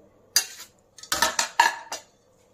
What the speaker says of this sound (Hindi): अब इसे मैं पूरी तरह से मिक्स कर ले रही हूँ।